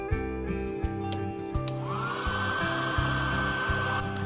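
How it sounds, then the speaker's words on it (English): A hair dryer blows steadily up close while heating the glued speaker adhesive inside an iPhone XR, a constant whirring hum with a rising whine midway and small clicks from handling. "use a hairdryer to hit the place where the speaker glued."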